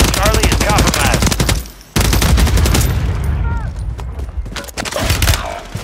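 Loud automatic gunfire in Call of Duty: Warzone 3, with fast rattling bursts that stop briefly and then resume, over constant combat noise and faint clipped voice chatter.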